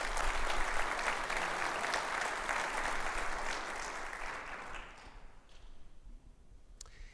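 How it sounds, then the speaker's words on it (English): Conference audience at an aviation industry opening session breaks into a full round of applause, dense and steady for about five seconds before thinning to a few scattered claps and quieting. "So a round of applause for all our partners that have installed that."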